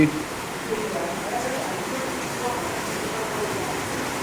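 Heavy rain falls steadily during a power outage in the afternoon, a continuous broadband hiss at moderate level with no breaks, close and enveloping.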